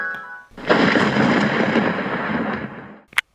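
A loud, sustained thunder rumble with a lightning crack, a broad roaring burst lasting about two and a half seconds before fading, then a brief sharp snap at the end; no one talks over it.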